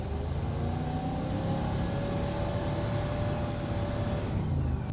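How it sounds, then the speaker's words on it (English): A 1966 Chrysler Crown Imperial big block engine, abandoned for 21 years, runs at a steady low rumble, burning off oil, with broadband road or wind noise throughout and no speech. "burning all the oil off the engine though"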